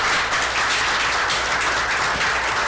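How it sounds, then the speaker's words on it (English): Dense, continuous audience applause fills a city council meeting in Atwater, steady and fairly loud for the whole short stretch, with no talking over it. "would you all give these young people a round of applause?"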